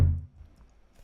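A single processed kick drum made from body sounds, shaped with EQ and compression, lands as one low, fairly quiet thump that fades quickly into a faint tail.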